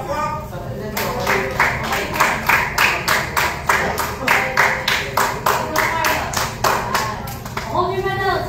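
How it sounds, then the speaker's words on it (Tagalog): A group claps in a steady, regular rhythm at a medal ceremony, sharp close handclaps repeating about twice a second, with voices calling out at the start and end. "Oh, palakpak sa silver medal!"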